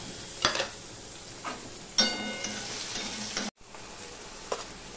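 Tomatoes and a little salt frying in a pan, a steady hiss of sizzling oil with a few sharp scrapes and bursts of stirring, close, no one talking, and a brief dropout near the end.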